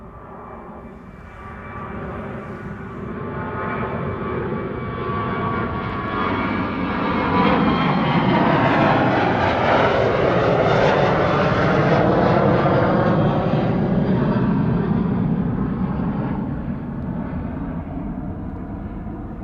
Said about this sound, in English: Dornier 328 from 1995. MHS Aviation going to Frankfurt.